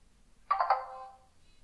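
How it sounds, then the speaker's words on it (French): A short electronic chime sounds once from a smartwatch receiving a notification, a bright two-note tone that rings out and fades over about a second in a quiet room. "J'ai une notification en anglais"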